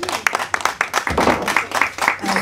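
An audience at a public discussion on corruption claps for a couple of seconds, a moderate burst of scattered, fairly close hand claps from a small room.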